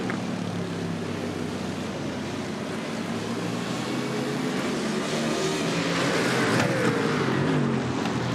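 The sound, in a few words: BMW M4 GT3 race cars racing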